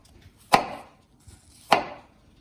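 Two sharp knife chops through an apple on a cutting board, about a second apart, crisp and close with a brief ringing tail after each.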